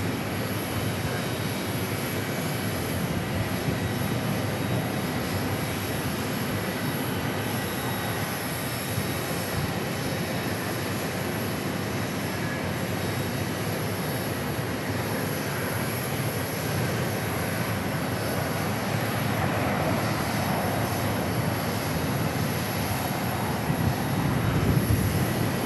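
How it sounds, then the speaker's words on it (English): An Airbus A321neo arriving from Boston at Phoenix Sky Harbor gives a steady broadband jet roar that holds at a constant level for the whole stretch, with no talk over it. "A321neo from JF or Boston"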